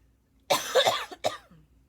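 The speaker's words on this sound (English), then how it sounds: "I just cannot shake this cough." A person coughs in a short burst: one harsh cough followed by a few quicker, fainter ones and a final cough, close and fairly loud in a quiet room.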